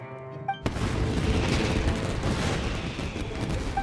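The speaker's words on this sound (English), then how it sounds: "Was that an explosion? It sounded like fireworks." In-game fireworks in Genshin Impact burst with a sudden loud boom, followed by a dense, sustained crackling roar of explosions that fills the rest of the moment.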